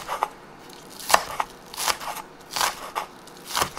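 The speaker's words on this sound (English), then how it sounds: "I have 4 spring onions. Just cut them into little tiny." Spring onions chopped into tiny pieces with a knife on a board, a series of crisp, close cutting crunches in an uneven rhythm with short pauses between strokes.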